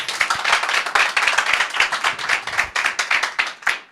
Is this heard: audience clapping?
yes